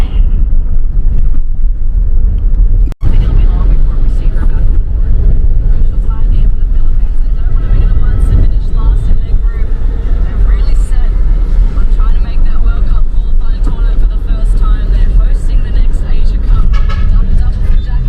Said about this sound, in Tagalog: Medyo traffic na dito sa baba ng elevated U-turn na.